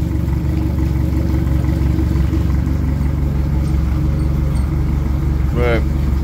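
A 2006 Yamaha 115/80 jet outboard runs in forward gear, a steady mid-pitched motor hum with a low drone, close and continuous, with a brief rising whine near the end.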